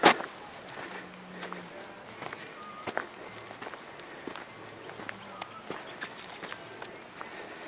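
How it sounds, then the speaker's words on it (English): Soft footsteps walking over grass on a farm, a steady shuffling rhythm close by, with faint rustles and outdoor ambience. "I can hear the sound of my own feet."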